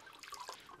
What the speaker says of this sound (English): It's leaking out of these seams because it's not fully welded